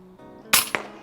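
A single sharp report from a rifle fired at a swimming beaver, followed a beat later by a softer impact thud; a faint hum and mechanical noise sit underneath.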